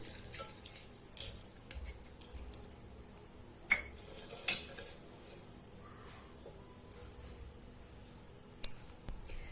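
Toor dal is washed in a metal pressure cooker, with scattered clinks and knocks of grains and metal and soft intermittent sloshing, close and fairly quiet.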